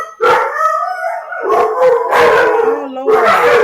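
A dog barks and howls loudly and close by, in long drawn-out wavering howls broken by short yelps, with no speech over it.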